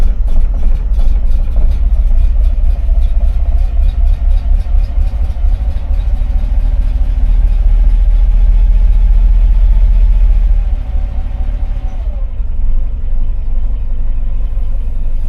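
An engine runs steadily at idle with the choke off, a loud low rumble with a slight shift in pitch partway through, then a drop to a quieter idle near the end.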